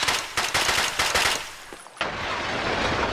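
Rapid bursts of gunfire and a heavy blast in a combat video game, loud and close, with a dense rattling volley cutting off abruptly before a sustained roaring tail.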